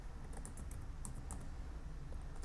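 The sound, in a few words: typing on a computer keyboard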